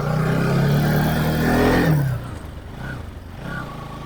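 A 2017 Bajaj Pulsar NS200 motorcycle accelerates hard nearby, its engine rising in pitch before it drops away into a quieter, fading drone as the bike rides off.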